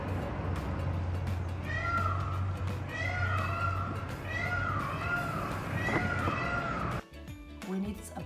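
Repeated loud, wailing cat-like calls from a peacock ring out one after another over a steady low engine hum, with a brief quieter gap near the end.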